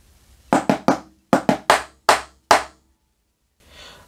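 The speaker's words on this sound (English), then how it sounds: "So the last measure of C is going to sound like this." Snare drum playing the last measure of part C of 23 Skiddo: sharp, close strokes in two short clusters of three and a few single hits, then a brief soft rustle, no talking.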